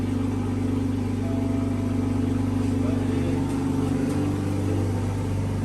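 Car engine fitted with a catless downpipe exhaust, a loud steady droning idle with strong low rumble and a brief rev near the end, while people talk nearby.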